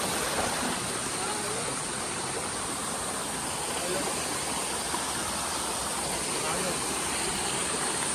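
Water rushing steadily along a trekking trail at Asheri fort, a dense, continuous roar that holds at one level throughout with no breaks.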